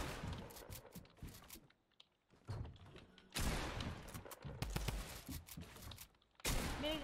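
Bursts of gunfire in the video game Fortnite come in several separate volleys, loud and dense, split by short quiet gaps.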